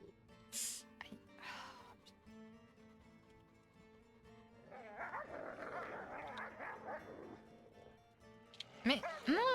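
A wolf in the game WolfQuest Anniversary Edition lets out a rough, dog-like growl with snarls and yips, heard midway through the clip between quieter passages, with a brief sharp burst near the end.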